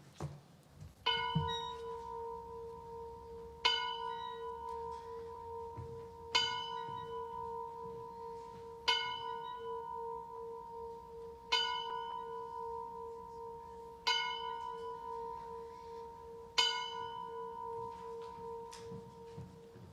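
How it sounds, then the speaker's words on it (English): A single bell at the start of a church service strikes seven times at slow, even intervals, each clear ringing tone lingering and fading before the next, in a quiet room. "I will now step back so we can hear our bell"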